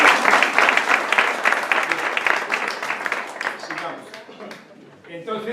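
An audience applauds at a lecture, with loud, full clapping at the start that gradually fades to a few scattered claps, and a voice briefly heard over it.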